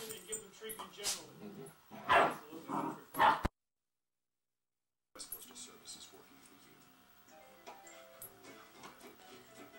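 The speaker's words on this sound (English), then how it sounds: "Hi, Maggie dog" Two dogs, a grown dog and a puppy, yip and bark in short bursts mixed with talking nearby, then a moment of silence before quieter household background sound.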